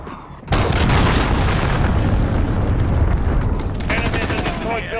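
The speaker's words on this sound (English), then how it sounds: "Enemy cruise missile incoming." An enemy cruise missile strike in Call of Duty: Modern Warfare lands with a sudden, very loud blast, then a sustained roaring rumble of explosions and crackling gunfire-like debris that tapers slightly.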